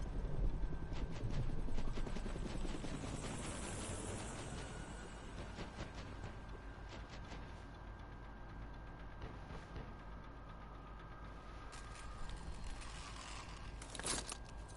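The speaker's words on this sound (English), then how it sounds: "the helicopter came in just in time" A helicopter arrives in the video game Call of Duty Modern Warfare Remastered, its steady rotor thrum and engine drone filling the scene, loudest at first then easing, with scattered clicks and bursts of gunfire near the end.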